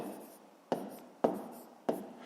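A pen or pencil writes numbers by hand on paper, a soft scratchy rubbing broken by three sharp taps, close and quiet with no talk.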